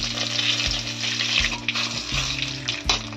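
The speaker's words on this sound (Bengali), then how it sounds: "মাছ ভাজার তেলের মধ্যে আমি দিয়ে দেবো দুটো তেজপাতা আর একটু পাঁচফোড়ন" Bay leaves and panch phoron crackle and sizzle in hot oil left from frying katla fish, a busy close spitting fry over a low steady hum, with no one talking.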